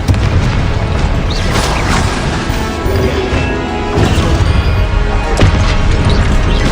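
Confringo spell blasts boom and crash in Hogwarts Legacy gameplay, a dense, loud run of overlapping explosions and impacts with a few sharper hits standing out.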